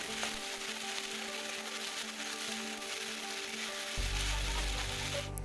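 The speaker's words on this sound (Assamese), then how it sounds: "তেলতে গোটেইখিনি ভাজি থাকিব লাগে অলপ সময়।" Small-cut potato pieces frying in hot oil on a gas stove, giving a steady, even sizzle that runs throughout with a low hum underneath and no voices.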